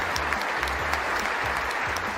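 Members of Congress applauding in a large legislative chamber, steady dense clapping from a crowd throughout, loud and continuous with no break.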